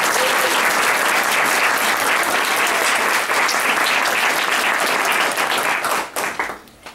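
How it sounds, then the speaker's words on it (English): Audience applause rings out at a writing contest awards reading, loud, dense and sustained for several seconds before tapering off into scattered claps. "So let's give a big round of applause for Star."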